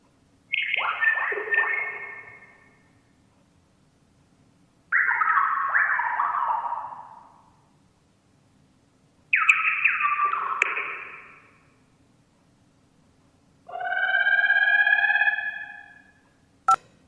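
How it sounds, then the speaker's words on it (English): Four separate birdsong recordings from the video game Kentucky Route Zero, each about two seconds long with pauses in between. They are clear and moderately loud over a faint low hum. "now I'll play you several recordings of Echo River birdsong."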